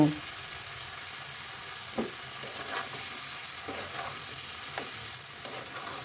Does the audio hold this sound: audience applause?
no